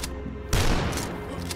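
A loud shotgun-style gunshot booms in the retro first-person shooter DUSK, a sharp close blast over a low droning game soundtrack, followed by a few fainter impact cracks.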